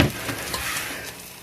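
Food sizzles in a home frying pan, with steady broadband crackle and a few sharper spits over about a second and a half, close and moderately loud, no talking.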